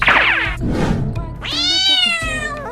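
Two loud, drawn-out meows from a huge black cartoon cat monster, the first sliding downward, the second long and wavering, with a brief rumbling scuffle between them.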